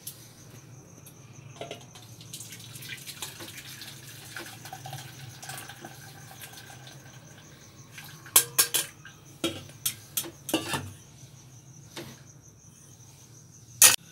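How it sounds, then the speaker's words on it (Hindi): Boiled water for Kashmiri pink tea is strained from a pot, with a faint trickle and scattered sharp clinks and scrapes of metal utensils against the cookware close by. "अब हम पानी को अच्छे से छान लेंगे।"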